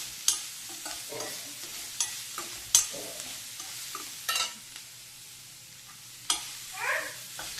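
Marinated paneer stirred with frying onions in a hot pan, with intermittent spatula scrapes and clatters over a steady low sizzle, close by and without speech.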